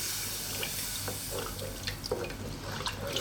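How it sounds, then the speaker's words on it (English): Milk poured into a saucepan while making a cauliflower white sauce, a steady liquid stream trickling and splashing close by with small drips and clinks, no talk over it. "we're going to go now with a lot more milk"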